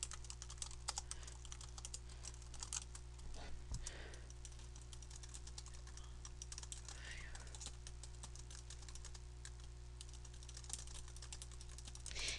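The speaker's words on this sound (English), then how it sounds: "So now I'm going to start typing my invitation text." Rapid, continuous clicking of keys on a computer keyboard, soft and close, over a faint steady hum.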